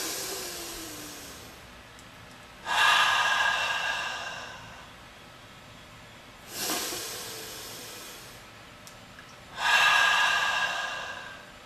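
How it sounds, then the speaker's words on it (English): Three slow, deep breaths during a guided group meditation, each a loud, airy rush that fades gradually, separated by several seconds of near silence, with no talking. "Take a deep breath in. Exhale."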